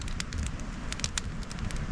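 Pine wood in a campfire crackling and popping close by, sharp irregular snaps over a dense rushing hiss of flames.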